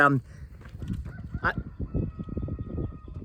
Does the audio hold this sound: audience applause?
no